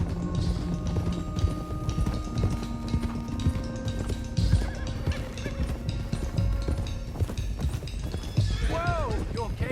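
Horses gallop in a video game on the way to Clemens Cove, their hooves beating a steady, busy clip-clop close by with an occasional whinny, while game sounds and faint voices run underneath.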